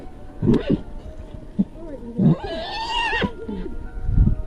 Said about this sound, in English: an aggressive stallion comes towards the mare, attacking her